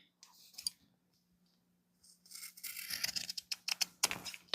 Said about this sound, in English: Now I'm going to trim my corner.